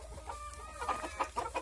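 Chickens, including Silkie and mini Cornish breeds, clucking in a pen at an ornamental poultry farm, several soft overlapping clucks and short calls close by, moderately quiet, with no talking.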